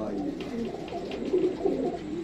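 Pet pigeons coo close by in soft, repeated low throaty phrases, a few rolling calls in quick succession over light background noise.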